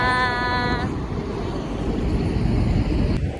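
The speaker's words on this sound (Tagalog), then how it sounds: "Ang lakas ng hangin." Strong winter wind buffets the microphone in a steady, loud rumble, with a faint tonal hum early on fading into the blustery noise.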